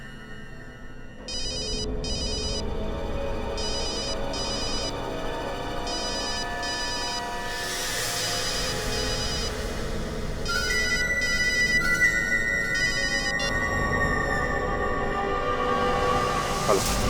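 A telephone rings repeatedly in a tense indoor scene, its electronic ringtone pulsing in steady bursts under a bed of dramatic background music.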